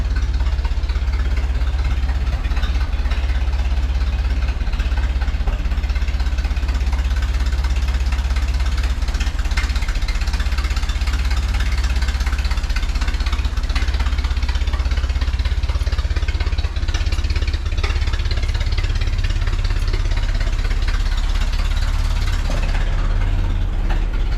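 A 1929 Ford Model A engine with a freshly rebuilt carburetor idles steadily, a continuous low mechanical rumble with a slight knocking texture, close to the microphone and with no talk over it.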